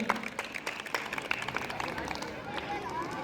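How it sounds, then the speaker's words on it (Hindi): Applause from an audience at a school event at Rock Gold Academy in Shamli, rapid uneven clapping heard fairly quietly under a reverberant hall wash, with faint voices mixed in. "जोरदार तालियां हो जाएं इन सभी लोगों के लिए भी।"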